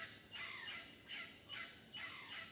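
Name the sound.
birds calling outdoors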